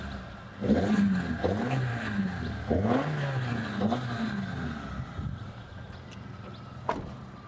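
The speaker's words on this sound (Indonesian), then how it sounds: "Coba gue gas-gas tipis-tipis ya." A Suzuki Karimun engine gets a few light throttle blips from idle, each rev rising and falling in a steady rhythm, close and moderately loud with no talk.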